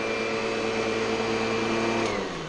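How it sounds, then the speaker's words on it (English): A vacuum cleaner run on house carpeting drones steadily and loudly with a constant motor whine, and its pitch drops slightly near the end as it begins to wind down. "the vacuum cleaner is calibrated to the optimal position for the carpeting in this house"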